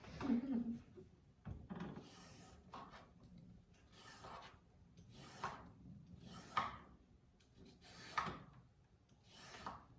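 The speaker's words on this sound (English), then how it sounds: "Peeling the carrot" A carrot being peeled by hand, with a series of short scraping strokes at an uneven rhythm, close and fairly quiet, separated by brief pauses.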